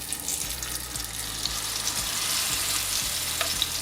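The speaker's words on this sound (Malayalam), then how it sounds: "നമുക്കിതിലേക്ക് നമ്മൾ മാരിനേറ്റ് ചെയ്ത് വെച്ചിരിക്കുന്ന ഫിഷ് ഇട്ട് കൊടുക്കാം." Marinated fish sizzles in hot oil in a pan, a steady close crackle and hiss with faint low clicks throughout and no voices.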